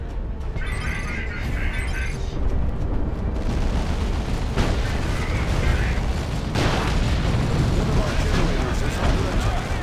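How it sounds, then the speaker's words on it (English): Creeping artillery barrage in the strategy video game Dawn of War II: Retribution, a dense rumbling stream of explosions and booms rolling continuously under a commentator's voice. "that's a creeping barrage"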